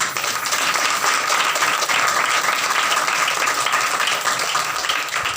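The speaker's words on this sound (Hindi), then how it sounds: "ताली बजाएंगे खुदा के लिए" A church congregation at a Christian worship service claps loudly and continuously, a dense, sustained wash of applause with no break.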